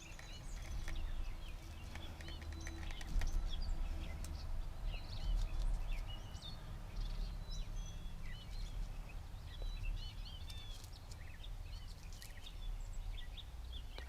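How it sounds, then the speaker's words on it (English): Wild birds chirp and sing on a morning outdoors, faint and distant, their scattered calls drifting over a low, steady background rumble with no talking. "Hope you can hear my birds in the background."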